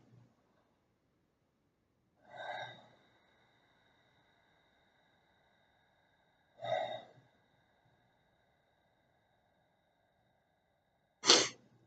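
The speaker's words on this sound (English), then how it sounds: "take a couple of deep and heavy breaths" Three deep, heavy breaths, each a slow, breathy rush of air, spaced several seconds apart with near silence between; the last is sharper and louder.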